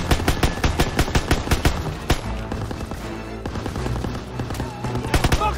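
Rapid bursts of machine gun fire in the World War II shooter Call of Duty: WWII, loud sharp repeated shots in quick rhythmic volleys that pause briefly midway and then resume, with no talk over them.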